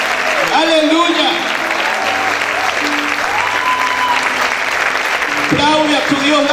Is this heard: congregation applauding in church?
yes